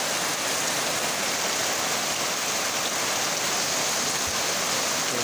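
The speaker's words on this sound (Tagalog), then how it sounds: "sa lakas ng ulan," Heavy rain pours down in Surigao del Sur with floodwater rushing, a dense, loud, unbroken roar of hiss and splashing with no voices.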